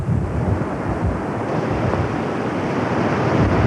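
Strong wind roars steadily across an open Lake Michigan beach in Chicago, buffeting the microphone with broad rumbling gusts amid blowing sand, with no voices.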